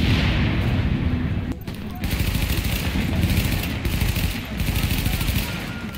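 Grenade blast and sustained gunfire in Tom Clancy's The Division, a loud continuous barrage of shots and explosions with a brief dip near the middle, while players shout under the din.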